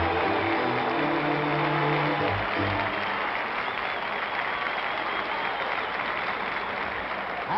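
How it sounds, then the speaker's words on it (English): A partial crowd at a New York Knicks basketball game applauds steadily from start to finish, a dense wash of clapping with low rumble and no voices standing out. "the partial crowd gives Jerry a big hand"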